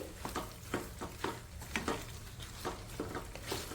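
Spices, Kashmiri chilli, turmeric and salt are stirred into an amla gooseberry pickle in a pan over a low flame, with a soft sizzle under rhythmic scraping strokes of a spoon repeating about every half second, close and fairly quiet.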